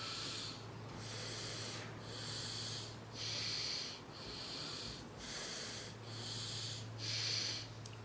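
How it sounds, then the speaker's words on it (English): Alternate nostril breathing in Anulom Vilom pranayama: a steady series of soft, airy breaths through the nose, about seven even inhale and exhale strokes, close and quiet with no talking. "we breathe from one nostril and breathe out from the other one"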